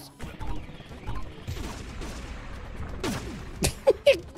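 Gunfire in the Pizza Tower video game: a few sharp, sudden shots near the end, loud bangs standing out over busy game music and sound effects.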